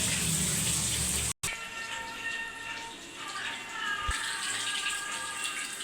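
Tap water running while rice is washed in a kitchen, a steady moderate gush with a brief cut partway through and soft clinks and splashes as the grains are rinsed.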